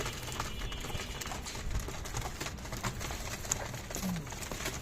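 Pet pigeons at feeding time, fluttering and pattering about with soft coos amid a dense, steady wash of nearby activity.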